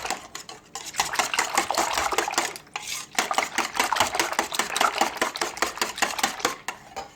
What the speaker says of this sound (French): Et on fouette avec le fouet.